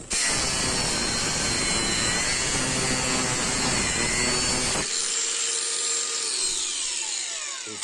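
An angle grinder cuts through metal with a loud, sustained high-pitched whine close by, then the cut ends and the disc spins down alone for a few seconds.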